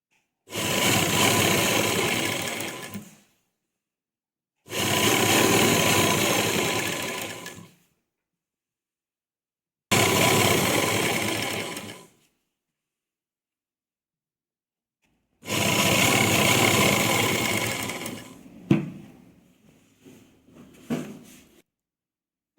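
A sewing machine stitches piping onto a dupatta in four long, steady bursts of fast whirring, separated by silent pauses, with a few soft handling knocks at the end.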